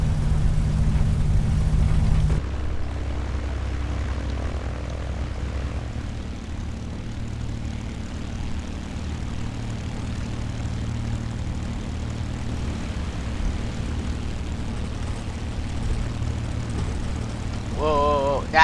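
A P-51D Mustang's propeller engine in the A2A flight simulator rumbles steadily while taxiing toward the runway, a loud low drone that drops in level after the first couple of seconds and holds, with a brief higher whine near the end.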